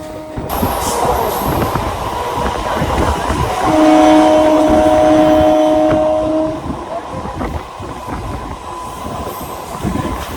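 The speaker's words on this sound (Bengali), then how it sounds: "আর এরই সাথে সাথে আমাদের ট্রেন ঢুকে গেল হচ্ছে আবাদা স্টেশনে" A local train on the Howrah to Digha line arriving at Abada station, loud rumbling wheels and carriage clatter heard from on board with a sustained squeal of braking wheels midway, voices faintly present.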